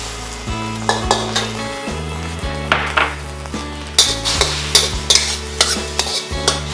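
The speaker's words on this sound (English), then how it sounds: "with the oil left over, I'm just gonna go ahead and fry my eggs" Eggs sizzle in leftover oil in a frying pan while being made for fried rice. A steady close-up hiss runs throughout, broken by repeated clinks and scrapes of a utensil against the pan.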